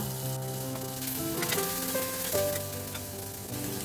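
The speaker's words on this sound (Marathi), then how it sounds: "कांदा छान परतला गेलाय। आता ह्याच्यात टोमॅटो घालते हा" Chopped tomatoes go into sautéed onions over a low gas flame, giving a soft continuous sizzle with light stirring and scraping in the pan, close and fairly quiet.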